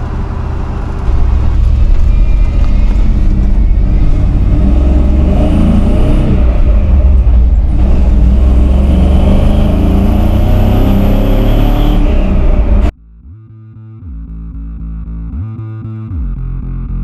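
An LS-swapped 1980 Chevrolet K10 squarebody truck on a test drive, its engine droning loudly with rising and falling revs for about twelve seconds, then cutting to a quieter stretch with a rhythmic tonal pattern.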